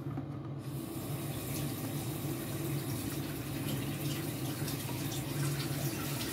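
Water runs and splashes steadily from bathroom plumbing into a bucket, a continuous close trickling flow that stays even throughout, with no talking.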